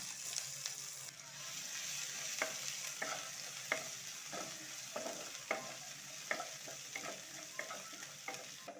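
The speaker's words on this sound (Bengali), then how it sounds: "তো তেল গরম হয়ে গেছে, দিয়ে দেব সরষে, জিরে, এবারে দিয়ে দেব রসুন আর কাঁচা লঙ্কা থেতো করে রাখা।" Mustard seeds, cumin, crushed garlic and green chilli sizzle in hot oil for a cabbage dish, a soft continuous hiss with frequent light spoon-scraping stirs, fairly faint and without talk.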